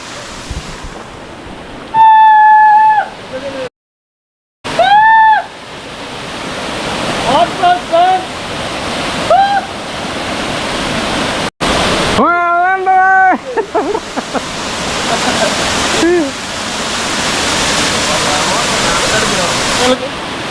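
Minumuluru Waterfalls near Paderu roars in a constant, broad rush of falling water, with people talking over it at several points.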